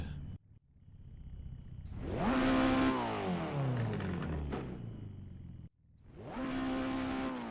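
Loud car engine from the VDC pack in a driving game, revving up in long rising sweeps that sag back down, with brief gaps and sharp cracking pops, then another surge of revs.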